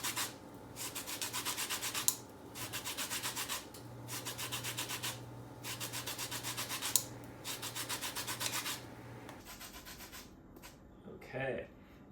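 Lemon being grated for zest, a close, steady scraping rasp in regular strokes of about a second each with brief pauses between, followed by a soft clatter at the end.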